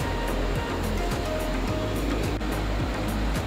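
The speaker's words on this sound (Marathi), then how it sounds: "अवखळ लाटांचा अथांग सागरी किनारा" Sea waves wash steadily onto the shore at Velneshwar beach in Guhagar, Ratnagiri, a continuous loud roar of surf with repeated breaking swells and no voices.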